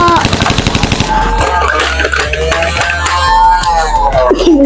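Toy gun firing a rapid burst of sharp repeated shots at close range, loud and continuous, with a low motorized hum underneath.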